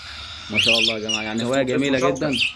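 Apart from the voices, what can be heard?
cockatiel birds chirping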